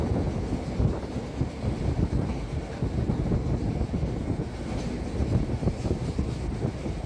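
A train picks up speed on the Balurghat to Gangarampur line, its steady low rumble on the rails blending with wind buffeting the microphone, continuous and fairly loud with no voices.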